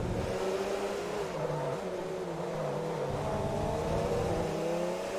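A diesel LMP race car in Forza Motorsport 3 with a steady, low-revving engine drone that holds a continuous tone with slight pitch shifts, heard alone at moderate volume.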